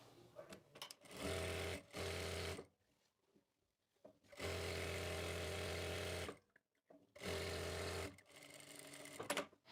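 A sewing machine stitches pieces of salwar fabric, the panels and side gussets, in three loud sustained runs separated by short pauses, with no talking.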